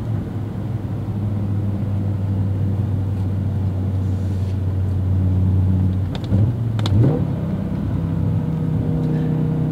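A 2007 BMW M5 E60 with a naturally aspirated V10 runs at a steady, loud, close drone before a quick rev rises and settles back to a smooth hum.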